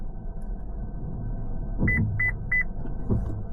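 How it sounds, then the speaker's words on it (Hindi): A car reversing into a parking bay sounds three short electronic beeps from its parking sensor, close and clear over a low engine rumble. "पीछे आपको बीप की साउंड भी आ जाएगी"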